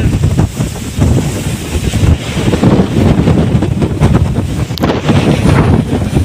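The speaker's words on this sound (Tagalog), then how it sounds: "Lakas ng hangin!" Strong gusts of wind roar and buffet the microphone on a cold, foggy mountaintop, a loud continuous rushing that swells and eases in waves, with no talking.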